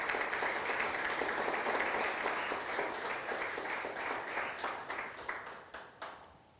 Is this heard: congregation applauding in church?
yes